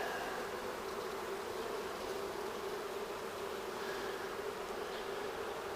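Honey bees buzz steadily around a hive frame held up during a summer hive inspection, a dense, continuous swarm drone with no talk, close and even throughout.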